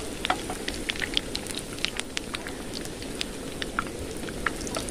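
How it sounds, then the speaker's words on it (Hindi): Potato and bread pakora fritters fry in hot oil, giving a steady dense sizzle with scattered crackling pops throughout, close and continuous, with no voices. "डाल देंगे तेल में, तरीके से सारे को डाल देंगे। सारा डला गया, एक साइड से फ्राई होने देंगे"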